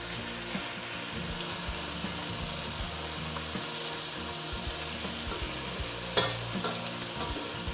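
Chicken scallopini fries in a pan with Italian seasoning, a constant close crackling sizzle with faint scrapes and one sharp clink as pieces are turned.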